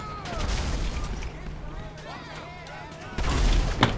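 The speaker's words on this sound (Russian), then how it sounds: "Вроде пару бочек всего взорвал. Цепочечка пошла." Chain of barrel explosions in Grand Theft Auto V, several booming blasts and crackling bursts in quick succession, with a heavier thump near the end, moderately loud game audio.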